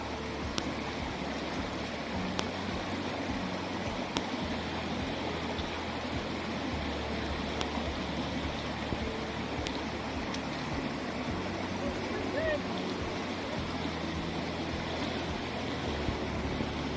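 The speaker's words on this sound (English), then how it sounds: "This is Jody getting ready to cross Holcomb Creek for our second time of having to wade." Holcomb Creek on the Pacific Crest Trail, a stream hikers are wading across, makes a steady, close rushing and churning of water that holds at an even level throughout, with no voices.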